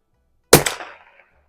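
A single sharp crack from a vintage Daisy model 2202 Legacy .22LR bolt action rifle at an outdoor range, followed by a quick ringing clang of a hanging steel target that fades within half a second; no voices.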